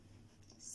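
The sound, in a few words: drawing a line with a pencil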